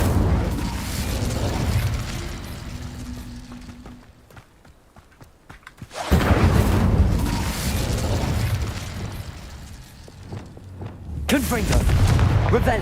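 An Incendio fire spell cast in Hogwarts Legacy erupts in loud, roaring whooshes and booming bursts, with a quieter lull in between, mixed with other game effects and occasional talking.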